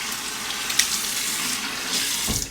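Hot water runs steadily from a tap into a sink, a continuous close splashing hiss with a brief heavier gush near the end, no voices.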